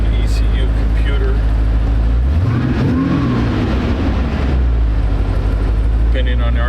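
A supercharged LS2 V8 in a 1932 Ford Deuce with electronic fuel injection fires up and settles into a loud, rumbling idle with a brief rev, heard close, with a voice talking over it.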